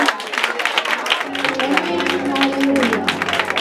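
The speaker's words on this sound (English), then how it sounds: "let us give God a hand clap of praise." A church congregation claps hands in praise, a dense continuous patter of clapping under cheering voices and a sustained tone that rises midway.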